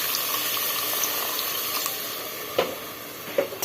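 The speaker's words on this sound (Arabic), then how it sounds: "ونمرقو بشويه ما" Water pours into a pan of frying onions and tomato paste, a steady close rushing splash with a few sharper sizzling bursts near the end, no voices.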